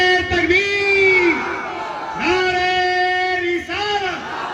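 A crowd at an Islamic religious gathering shouts back in unison to a Takbir call, three long, loud chanted cries rising and falling in turn.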